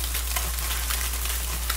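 Flounder fish sizzles in hot oil with a steady, dense crackling hiss. The sound is close and continuous, with no voices.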